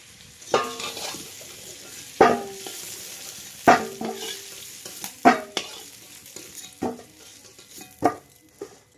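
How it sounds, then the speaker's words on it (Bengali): Potatoes frying in oil in a wok, with a soft background sizzle broken by about eight distinct scraping stirs of a spatula against the pan, spaced at roughly one-second intervals. "আলু কিন্তু আমার হালকা হালকা ভাজা হয়ে গেছে এবার কিন্তু তুলে নেব"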